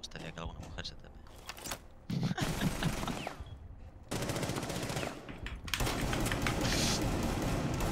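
Rapid game gunfire from a shotgun in a tactical shooter comes in several loud bursts separated by brief gaps, interleaved with mechanical clicks and reload sounds.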